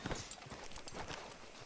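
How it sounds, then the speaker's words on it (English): Horse hooves clip-clop at a steady walking pace in Red Dead Redemption 2, close and distinct, with no talking over them. "Hitch your horse up here."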